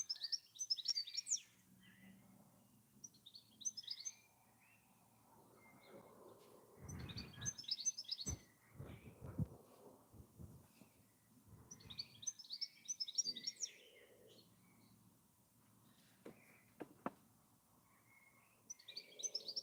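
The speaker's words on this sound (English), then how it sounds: "The goldfinch is getting very noisy out there now." A European goldfinch singing outdoors in repeated bright, twittering bursts, fairly near, with quieter background birds between phrases.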